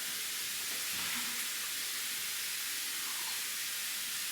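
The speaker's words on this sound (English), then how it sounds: "you can hear it starting to sizzle some more, and that's browning that meat and rendering that fat" A continuous bright hiss of meat browning and rendering fat in a hot pan for American goulash, steady and fairly loud with no voices over it.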